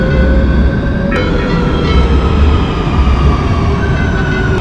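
A Madrid metro train rumbles loudly and continuously at close range, with faint tonal whines from the wheels or motors riding over the steady roar.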